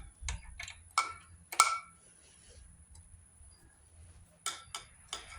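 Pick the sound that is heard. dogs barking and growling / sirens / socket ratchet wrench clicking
socket ratchet wrench clicking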